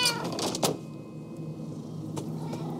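A cat meows in the Minecraft Story Mode video game, a couple of short, moderately loud mews over a low game ambience and background music.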